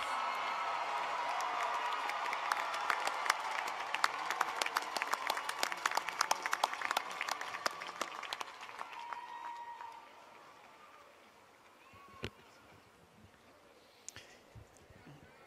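A large commencement audience of faculty, family and friends at a Rice University graduation applauds the Jones College degree candidates, with sustained, broad clapping that swells, then tapers off around ten seconds, leaving a quiet hall with a few isolated sounds.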